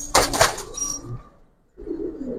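Giribaz pigeons coo close by in a low, throaty burst, followed by a pause and a softer murmuring coo, with light rustling and no speech.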